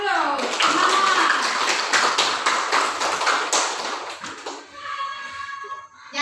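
A classroom of children claps their hands together, a dense burst of quick overlapping claps lasting several seconds before fading out, with voices mixed in.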